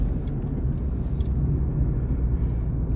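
A Tofaş car coasts down to a stop, giving a steady low road and engine rumble at close range with no voices.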